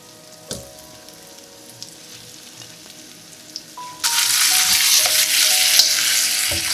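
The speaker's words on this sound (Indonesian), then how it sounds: "Kita nanti akan langsung masukin iganya yang akan kita bolak-balik sebentar, kita tumis bersamaan dengan bumbunya." Beef ribs drop into hot spice paste over low heat, and a loud, even sizzle and crackle suddenly starts partway through. Before that there are quiet kitchen clinks and handling sounds, and no one speaks.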